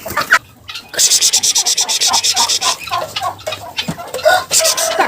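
A flock of chickens being driven out of a farmyard shed clucks and squawks loudly and rapidly up close, a busy overlapping chorus with one bird calling out repeatedly.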